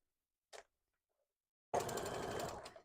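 A sewing machine stitches the upper body of a fabric plush toy, a short burst followed by a steady, close run of rapid whirring stitches that continues to the end.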